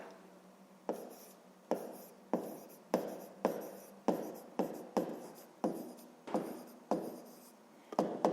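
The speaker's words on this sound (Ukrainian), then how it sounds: "Пишемо, наприклад." Pen or marker strokes writing numbers by hand, in a maths lesson on fractions for fifth grade: about a dozen crisp, evenly spaced scratchy strokes in a steady rhythm, close and alone with no talk.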